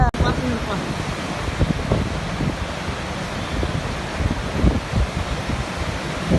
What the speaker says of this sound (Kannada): ನೀರು 1 ಕಿಲೋಮೀಟ್ರ್ ಆವಾಜ್ ಕೇಳತ್ತಾವು